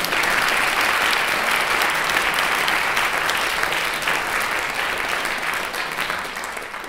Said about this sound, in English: Applause, it says here.